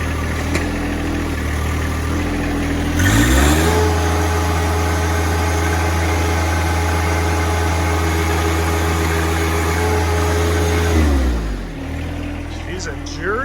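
A John Deere 2025r compact tractor engine idles, then revs up and holds a steady higher pitch while lifting six bags of dry concrete mix, before dropping back to idle. Someone talks over it.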